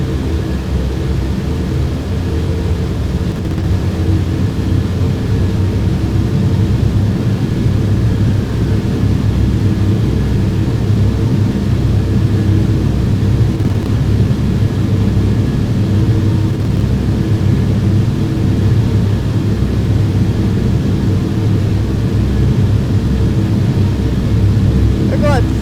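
Airplane taking off in a flight simulator game, a steady loud engine roar with broad rushing noise that holds constant throughout, with someone talking over it.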